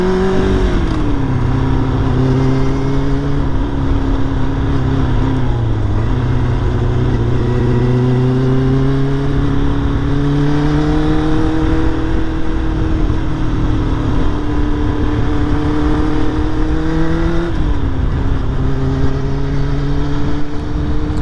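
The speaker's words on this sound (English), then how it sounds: "God, the traffic's so bad." Motorcycle engine droning steadily with surrounding road traffic during a ride, loud and continuous, the engine pitch rising and dipping through shifts over the whole stretch.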